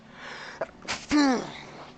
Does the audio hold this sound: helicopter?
no